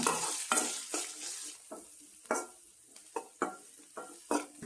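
Chopped onion sautéing in a pan for a greens and lentil kootu: intermittent scraping stirs of a spatula over soft frying sizzle, roughly one stroke per half second, close and clear with no talk.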